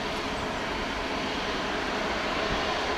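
A Boeing 767 royal flight takes off from Paris Orly, its jet engines a steady, loud broadband roar that holds evenly throughout with no voices.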